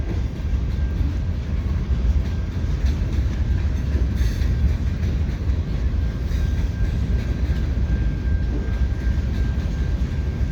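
A long CN freight train with distributed power units rumbles steadily past nearby, a continuous heavy roar of rolling cars with a faint high whine running through it.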